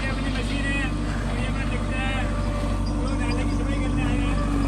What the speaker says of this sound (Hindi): ये हमारी मशीन है, ये नाले की सफाई कर रही है